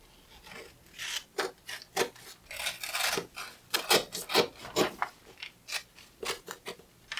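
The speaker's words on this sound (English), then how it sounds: "And we cut the dart out." Scissors cut a dart out of a paper dress pattern, producing close, crisp snips and rustling paper crunches in an irregular series of about fifteen cuts, some quick in succession, others spaced apart.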